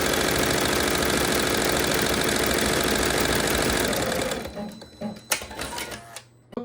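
An embroidery machine stitches an appliqué design in a Mighty Hoop with a rapid, close, rhythmic clatter that stops partway through, followed by a few sharp handling clicks and knocks.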